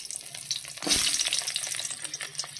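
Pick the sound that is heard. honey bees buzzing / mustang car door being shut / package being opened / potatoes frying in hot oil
potatoes frying in hot oil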